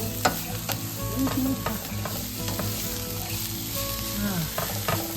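Greens cook down in a hot pan with a steady sizzle and light stirring crackles that keep going without a break, close and fairly loud.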